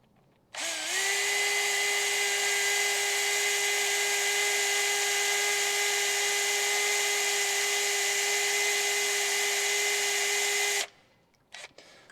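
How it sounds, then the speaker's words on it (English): Power drill spinning steadily at high speed while drilling out bolts on the intake of a 1960 Chevy Brookwood wagon, one long continuous whine for about ten seconds that starts and stops abruptly, close and loud. "that's enough drilling for the video purpose"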